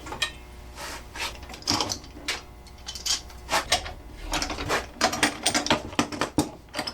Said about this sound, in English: I'm gonna take all these clamps off.